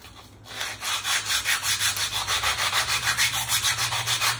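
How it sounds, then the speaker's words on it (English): Wooden edges are sanded by hand with quick, even back-and-forth strokes, a close rhythmic rasping repeated about twenty times. "I'm going to sand these edges a little bit first"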